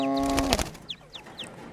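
Several short, thin high-pitched chirping calls from a female quail, close by, spaced irregularly after a brief burst of louder noise.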